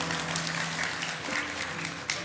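A church congregation applauds during a worship service, steady broad clapping from many hands filling the room, with a voice briefly present over it.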